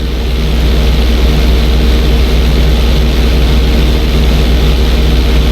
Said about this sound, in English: On my mark, roll your plane over to the opposite side and hold the position.